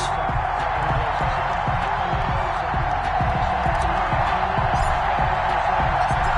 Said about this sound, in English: This crowd is ready as their guys get set to match up between the Chicago Bears and the Green Bay Packers.